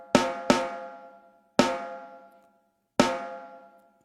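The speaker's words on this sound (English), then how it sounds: "I added a trigger as well to the snare drum, and it sounds like this" Four sharp snare drum hits with an added trigger, giving a bright, ringing metallic tone that decays slowly, spaced irregularly with silence between.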